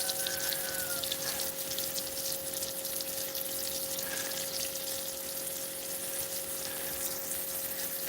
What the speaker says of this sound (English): gotta pump water out of the back of the truck because we don't have a well